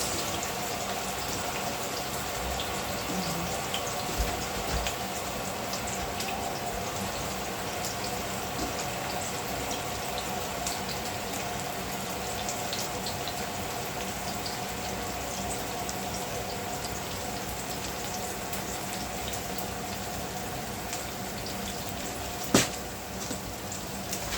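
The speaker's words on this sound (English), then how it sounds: "just wash my hands" Tap water runs steadily into a kitchen sink while hands are washed, a constant close splashing flow lasting the whole stretch, with one brief knock near the end.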